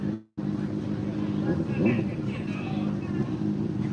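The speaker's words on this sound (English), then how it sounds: "he's just sitting there revving in his shorts" A motorcycle engine, apparently an R7, idles and revs up and down, cutting out briefly near the start and then rumbling steadily with a couple of rising revs, heard under distant chatter.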